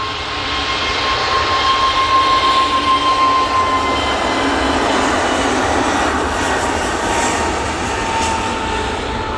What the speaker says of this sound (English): Off to Antalya, the A321neo.